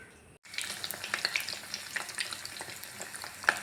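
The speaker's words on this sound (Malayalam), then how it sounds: "ഇനി ഇത് എണ്ണയിലിട്ട് ഒന്ന് വറുത്ത് കോരി വരാം" After a brief quiet start, oil bursts into lively sizzling and popping as stuffed egg fritters fry, crackling continuously with a sharp pop near the end.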